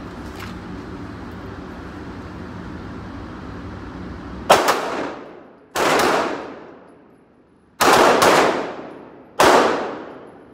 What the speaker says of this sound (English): Number five is draw. Transition to weak hand. Shoot five rounds.